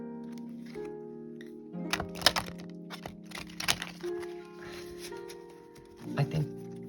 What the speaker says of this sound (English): I'll do a little shuffle.